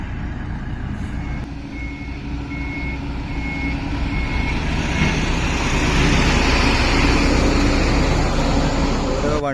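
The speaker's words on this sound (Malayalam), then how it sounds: "അപ്പോൾ നമ്മുടെ അടുത്ത വണ്ടി ഇതാ വന്നുകൊണ്ടിരിക്കുന്നുണ്ട് കേട്ടോ" At highway roadworks on NH66, a truck approaches with evenly spaced reversing beeps over a heavy engine rumble that grows louder and broader as it draws nearer.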